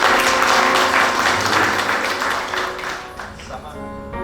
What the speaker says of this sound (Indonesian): Ayo kita tepuk tangan buat